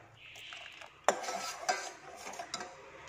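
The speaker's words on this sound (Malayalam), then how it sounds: "അപ്പോൾ ഇനി ഇതൊന്ന് ഇളക്കി കൊടുത്തുകൊണ്ടിരിക്കുക." A spoon stirs boiling milk in a pot for coffee pudding, giving soft scraping swirls broken by a few sharp clinks against the metal, close and quiet with no one speaking.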